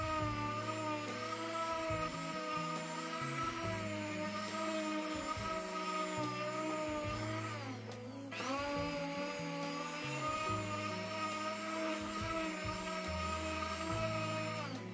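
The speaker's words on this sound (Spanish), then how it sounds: "le estoy pasando con la lijadora, igual con la lija del grano 100" An electric sander with 100-grit sandpaper sanding painted wood whirs steadily with a high buzzing hum, its tone dipping briefly midway, while the motor keeps running close by.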